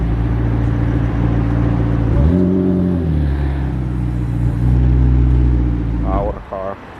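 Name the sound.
McLaren 765LT supercar engine passing at night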